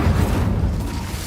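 A deep, roaring burst of flame from the Incendio fire spell in Hogwarts Legacy, loud and close, swelling and then fading out within about a second.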